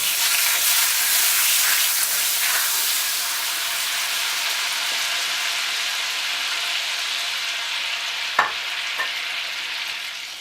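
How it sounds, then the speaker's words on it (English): Eight ounces of butter melt in a warming pan over medium heat for brownies, a loud close sizzle that fades slowly, with one sharp clink near the end. "first thing we want to do is drop in our 8 ounces of butter"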